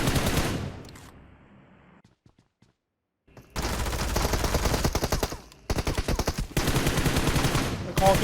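Bursts of rapid gunfire in the mobile battle-royale game PUBG Mobile, loud and close, coming in several sustained volleys separated by short pauses and a stretch of near silence.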